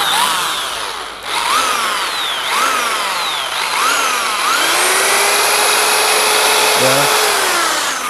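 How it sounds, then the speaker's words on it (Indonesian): A power drill whines in repeated rising bursts, then holds a long steady high-pitched spin, loud and close with no talking. "Saya akan coba saya pakai bor juga ya."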